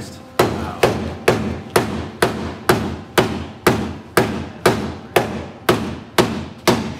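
Hammers striking in a steady rhythm, about fifteen sharp loud blows roughly half a second apart, each with a short ringing decay, close and alone without talk.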